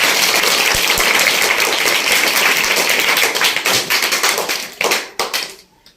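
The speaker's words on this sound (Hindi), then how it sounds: "तो अर्पित के लिए एक बार जोरदार तालियां।" A school audience gives a student loud, dense clapping, close and sustained before breaking into scattered claps and fading out near the end.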